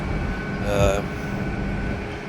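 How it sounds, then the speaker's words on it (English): A train at Leeds railway station rumbles and hisses through a station ambience with a short tonal swell near the middle, moderately close and steady. "So here we are at Leeds station, waiting for my train, not that one."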